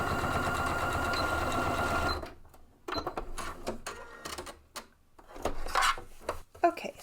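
Sewing machine stitching across a backpack strap to attach a tri-glide: a steady whirring run for about two seconds, then stops with handling clatter and short bursts of machine stitching.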